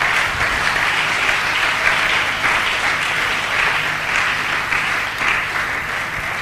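Church congregation applauding during a worship service, a steady, dense wash of clapping that fills the room at a constant level throughout, with no pauses or individual claps standing out.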